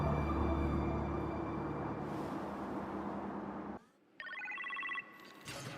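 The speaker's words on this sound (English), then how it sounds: "You appear to have a phone call in the kitchen, sir." A telephone rings in a kitchen in the Iron Man VR game, a bright electronic ring heard briefly near the end, after a loud sustained rumbling drone cuts out.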